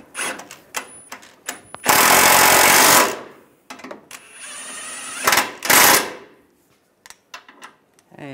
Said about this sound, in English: Now I'll tighten these down.